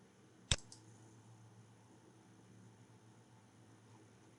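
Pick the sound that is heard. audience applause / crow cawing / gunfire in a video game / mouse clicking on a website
mouse clicking on a website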